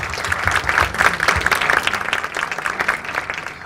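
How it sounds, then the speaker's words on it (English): Warm round of applause from a conference audience for a business panel, many hands clapping densely and close, steady at first and thinning slightly toward the end. "Can we give them a round of applause, please?"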